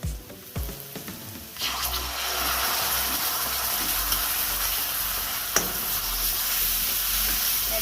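Ground tomato paste poured into egg curry masala in a hot pan, starting with a few clatters and stirs, then a loud steady sizzle that carries on with small utensil knocks.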